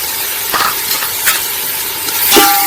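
Ground masala with cinnamon, bay leaf and cloves frying in a pan for chicken dum biryani, a steady close sizzle with a few brief scraping stirs of a spoon against the pan.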